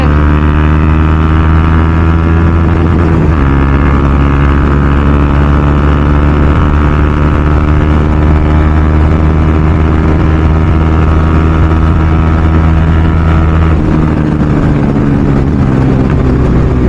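A KTM Duke 390 BS3 single-cylinder motorcycle pulls hard in fourth gear, its loud, close engine drone and exhaust note holding steady with rising and falling revs, no talking over it.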